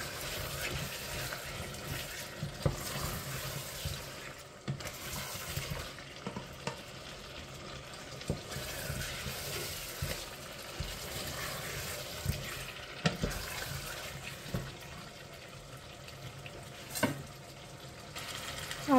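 Arbi and potatoes frying in a pan give off a steady low sizzle with water being added, punctuated by occasional clinks and scrapes of stirring throughout, fairly quiet and without speech.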